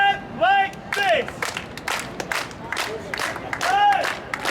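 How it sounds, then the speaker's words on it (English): An audience claps in irregular bursts with scattered cheers and shouts, while voices call out over the clapping. "Everybody clap like this."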